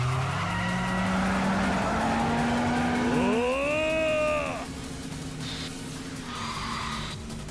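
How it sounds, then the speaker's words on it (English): In the Yakuza 5 video game, a car drifts with a loud engine drone beneath a rising, whining tire squeal that swells, holds, then fades into scattered skidding noise. "Secret move, fiery drift."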